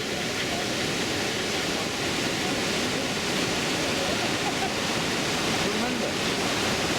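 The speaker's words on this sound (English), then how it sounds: "So this is my first view of the main falls." Iguazu's main falls roar as a dense, steady wash of broadband noise with no pauses, filling the whole clip.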